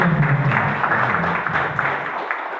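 A crowd at a tobacco growers' association meeting in Klaten claps in a dense, moderately loud wash, fading slightly toward the end, with no talk over it.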